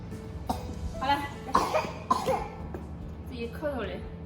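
A two-year-old child with a cold coughs several times in short, close bursts, with a throat-clearing sound among them, in a quiet indoor setting.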